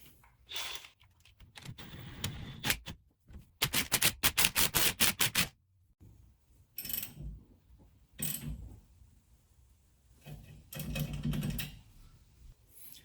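Someone tightens a clamp on the rear leaf springs of a truck during an add-a-leaf leveling kit install, making bursts of rapid ratcheting clicks and metallic cranking with pauses in between.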